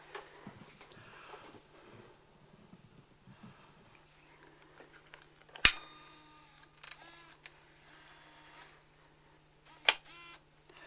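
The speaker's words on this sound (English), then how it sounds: "The mechanism does sound quite healthy." Canon XL1 camcorder's MiniDV tape mechanism running, with faint whirring and soft mechanical motor noise punctuated by a few sharp clicks and clunks, close and quiet.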